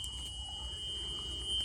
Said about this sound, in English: I'm looking for the alarm and student lights to activate.